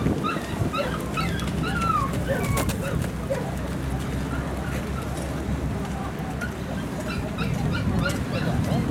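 Siberian Husky dogs at a kennel club dog show in Kitami yip, whimper and bark in short scattered bursts, some near and some farther off, over a busy crowd murmur and an announcer's voice.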